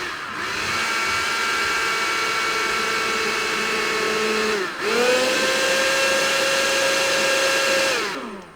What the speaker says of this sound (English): Then you put your top on your blender, make sure it's secure. It's about to get loud,